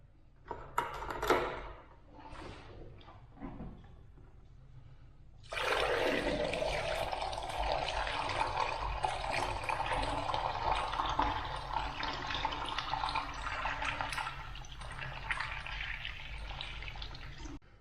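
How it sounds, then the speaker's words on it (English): Buckets of water poured down a cleared commercial floor drain, a few splashes and then a long steady rushing gush draining away, close and fairly loud. "I poured a couple of buckets of water down it"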